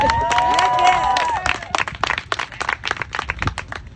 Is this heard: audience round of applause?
yes